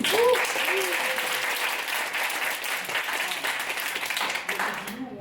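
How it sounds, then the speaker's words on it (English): An audience at a launch presentation applauds, a dense, even wash of clapping that carries on for about five seconds, with faint voices underneath. "So please, a big round of applause for Yeji."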